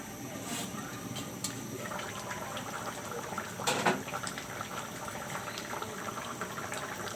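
A bottle gourd curry cooked with hilsa fish bones bubbles at a rolling boil in a covered pot, a continuous soft watery churn with one brief louder surge midway.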